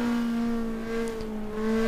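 A race car engine in the racing game GTR2 holds a steady, high droning note, with a continuous whining hum and a slight swell near the end, and no talk over it.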